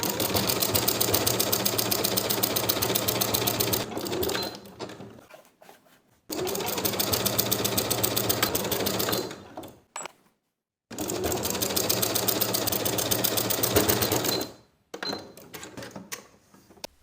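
A sewing machine runs in three long bursts of rapid, steady stitching, sewing a pocket onto a tank top bodice, each run separated by brief pauses and light handling clicks.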